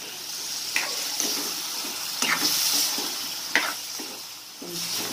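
Water hits a hot pan of North Karnataka potato curry with a close hiss and sizzle, broken by a few stirring scrapes, and no voices.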